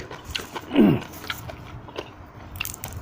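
Someone bites into a spicy Thai chicken feet salad, giving one crisp crunch followed by softer chewing and small clicks close to the mic.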